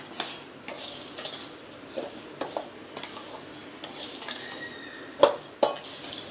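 Laddu mixture stirred with a ladle in hot melted ghee, producing irregular metallic scrapes and clanks against the pot over a faint sizzle, with a couple of louder knocks near the end.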